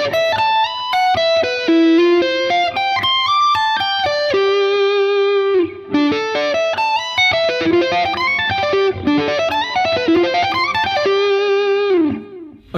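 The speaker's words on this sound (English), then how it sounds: "Another way you can do it is to slide up, alternating by sliding on the top part of the arpeggio" An electric guitar with a distorted effects tone plays fast sweep-picked add9 arpeggios, cascading up and down in quick runs with slides between the top and bottom notes, loud and solo with a brief pause midway.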